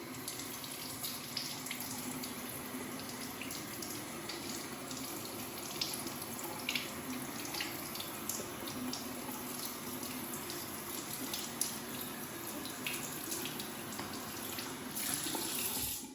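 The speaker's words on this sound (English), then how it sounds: "then you can wash it under the sink" A kitchen sink tap runs steadily while an acrylic dry-erase note board is rinsed under it, making a continuous close splashing stream with small shifts where the water hits the board.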